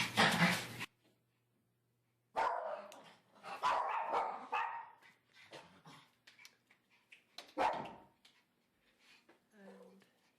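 Indoor dogs bark repeatedly in loud, close bursts, with gaps of silence between volleys and some whimpering yips toward the end, while a person talks at times.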